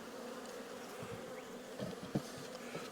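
Steady low buzzing of many honey bees close by in an opened hive during an inspection, a continuous drone with a few brief louder bumps and knocks.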